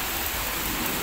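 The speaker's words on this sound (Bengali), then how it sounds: "বাইরে অনেক বৃষ্টি হচ্ছে" Heavy rain falls outdoors at the CRB railway grounds in Chattogram, a steady, dense roar of downpour that fills the whole moment without any voices.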